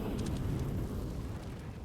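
A grenade blast in CS:GO during a pro match on the Inferno map, a dense rumbling roar that fills the whole clip, steady and loud, with no one speaking.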